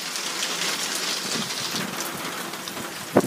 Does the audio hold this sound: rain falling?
yes